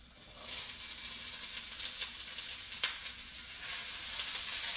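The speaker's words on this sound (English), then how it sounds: "All we're doing in this step is we're going to be sauteing vegetables." Vegetables and garlic sautéing in a pan for spaghetti make a continuous moderate sizzle with light stirring rustles and one sharper scrape near the end, heard close with no speech.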